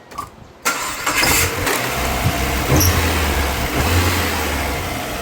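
Mazda Miata engine cranking and catching, then settling into a steady, close-up idle with a brief rev, loud and alone without speech.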